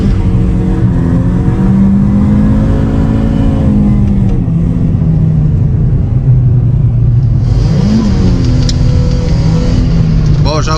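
A BMW E36 fitted with a steering angle kit drives with its engine droning loud and close, pitch rising and falling as the revs climb, dip and surge again, with a voice talking over it.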